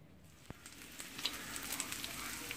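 Bacon for baked beans crisping in a pan, a faint, steady sizzle with small pops and crackles throughout, heard up close with no talking.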